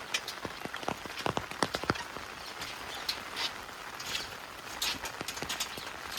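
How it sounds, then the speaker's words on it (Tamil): Heavy rain falls near an old iron bridge during a cyclone, a steady patter of drops with sharper close splashes and taps through the first couple of seconds, no talking. "ஆனால் மழை அதிகமாக பெய்யுது பாருங்கள்."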